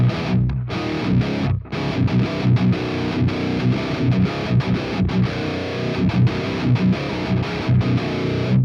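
Heavily distorted electric guitar through a Quad Cortex amp modeler playing chugging, saturated metalcore riffs with brief gaps, loud and thick throughout.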